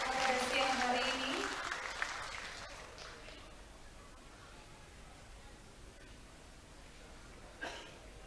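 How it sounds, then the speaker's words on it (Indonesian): Audience applause at an MOU signing during the Dewan Kampung Nuswantara launch in the Pendopo of Kabupaten Malang, loud and dense at first, tapering off within a few seconds into a quiet room hum with a brief knock near the end. "Kita beri tepuk tangan sekali lagi yang meriah"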